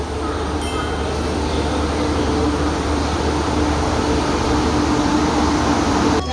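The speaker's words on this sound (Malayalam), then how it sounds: "ഇതാ ഞങ്ങൾ ട്രെയിൻ എത്തിക്കൊണ്ടിരിക്കുന്നു." A train rumbles and hisses steadily into a station, a constant broad mechanical roar with faint squeals and clanks on top.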